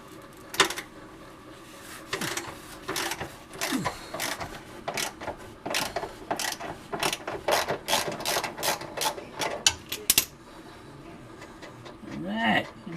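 A ratchet wrench loosens bolts on a 2005 GM 4T65-E transmission in irregular bursts of rapid clicking, close and fairly quiet, with pauses and faint handling noises between strokes.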